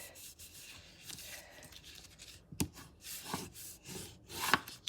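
Paper is creased by hand while folding a tall slim Halloween candy box, making soft, close rubbing and scraping strokes with a few sharper crackles in an otherwise quiet room.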